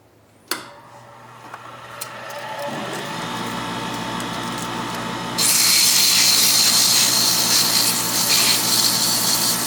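Power sanding of a wood-core ring, working from low grit up to finer grit, with a sudden touch at the start, a steady abrasive whir that builds, and then a louder, harsher grinding from the middle on, all without talk.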